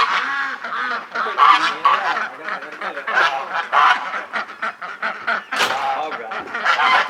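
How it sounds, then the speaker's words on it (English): A flock of geese honks in a steady stream of overlapping, nasal calls while running out through a gate on a farm at breakfast time, close and busy, with duck-like quacks mixed in. "Here come the geese out the gate."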